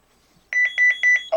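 A CareTaker Plus home automation alarm system from 1992 gives a rapid run of about six short electronic beeps as it arms, then a lower closing tone, after near silence.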